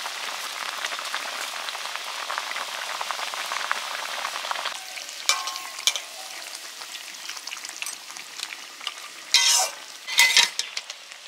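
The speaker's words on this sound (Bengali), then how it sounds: "এবারে দিচ্ছি পার্শে মাছগুলো" Parshe fish go into hot oil in a pan with a close, steady sizzle. Sharp crackling bursts break out near the end, and nobody speaks.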